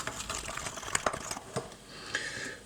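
A spoon stirs a mixture of egg yolk, baking soda and honey, making quick, close clicking and scraping taps against the container.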